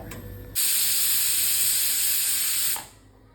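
A sharp, loud hiss of steam bursts from a pressure cooker whistle cooking chicken soup, holding steady for about two seconds before cutting off.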